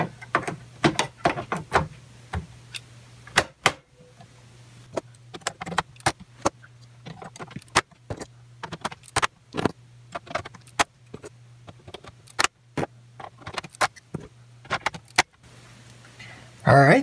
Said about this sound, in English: now we just install our new RAM